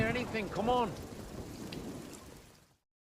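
Heavy rain pours through a dense forest as a steady, enveloping hiss of a close downpour, with a voice speaking briefly near the start before the rain carries on alone.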